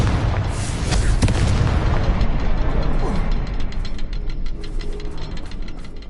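Confringo spell explosions in the Hogwarts Legacy video game: a loud, dense booming burst up front, then crackling, rattling debris and mechanical clatter that fade slowly over several seconds, with no talk.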